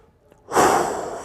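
A deep exhale during a glute bridge stretch in a golf flexibility routine for older golfers, a sudden breathy rush after a brief quiet, close and fairly loud, sustained to the end.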